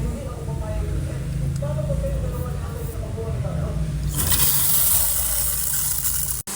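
Water running steadily while hair is shampooed before a hair extension is fitted, a continuous close hiss that turns brighter and stronger toward the end, with a voice speaking over it.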